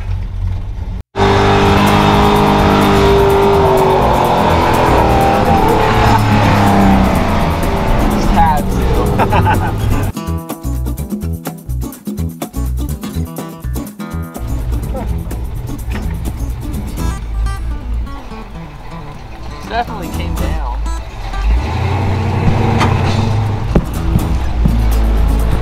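An old demolition derby car drives with a loud, steady engine roar that rises and falls over about 25 seconds, up close, with rattling and knocking partway through.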